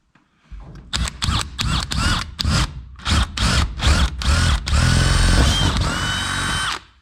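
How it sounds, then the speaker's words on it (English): A power drill bores a hole through the roof of an off-grid homestead for a propane line, with about ten short loud bursts followed by one long sustained run, all close and with no talking. "This has got to be drilled in right here."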